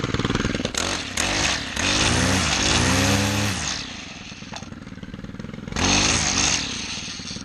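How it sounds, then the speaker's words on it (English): A Stihl engine on a Bushranger L261 trimmer fires up and revs in loud, rising and falling bursts, drops back to a lower idle, then surges again near the end. "so that's how you start Stihl engines"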